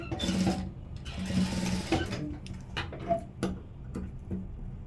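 A domestic sewing machine stitches a hook strip onto the front of a thick fabric blouse. Its fast, steady mechanical whir runs in short bursts, with ticking pauses and small clicks between runs, close up.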